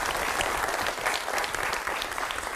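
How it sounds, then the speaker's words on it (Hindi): Studio audience applauding the guests of a televised debate, dense, loud and continuous clapping that fills the whole short stretch on its own. "जरा तालियां दोनों के लिए आप बजाएं"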